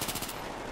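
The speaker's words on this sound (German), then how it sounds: "da vorne wird wieder richtig schön geballert." Rapid automatic gunfire from the video game Battlefield 3 crackles in a quick burst of repeated shots, dense and loud, with no talk.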